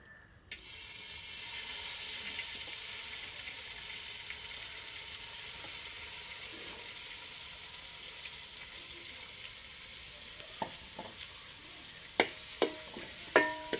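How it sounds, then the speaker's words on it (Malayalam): Drumstick leaves sauté in coconut oil with a steady, soft sizzle that hisses on after a sudden onset, followed later by a few sharp clicks and scrapes of a utensil against the pan. "നമ്മൾ നേരത്തെ വൃത്തിയാക്കി വെച്ചിരിക്കുന്ന ഈ മുരിങ്ങയില ഈ എണ്ണയിലോട്ട് ഒന്ന് ഒന്ന് ഒന്ന് വഴറ്റിയെടുക്കണം"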